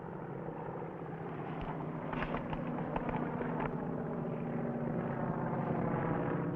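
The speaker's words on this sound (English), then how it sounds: "Look at that plane." Low-flying airplane passing overhead, a broad engine drone that swells steadily louder over several seconds with a rough, throbbing texture and no talk.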